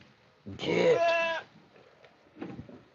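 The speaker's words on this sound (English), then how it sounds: "You silly goat." A goat gives one loud, drawn-out bleat lasting about a second, close by, followed by softer, fainter noises and a quiet voice.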